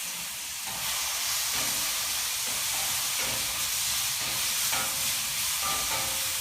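Bok choy greens cooking in a pan with a drizzle of vinegar, a continuous soft sizzle and steamy hiss with light stirring sounds, no talking.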